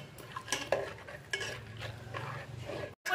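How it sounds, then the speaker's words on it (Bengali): Fruit being cut for a Bengali Nabanna festival prasad, a series of close, quiet knife strikes and scrapes at an irregular pace over a faint low hum, then a brief cutoff. "যতক্ষণ দুধটা আমার ঠান্ডা হবে এখানে আমি ফলগুলো কেটে নেব"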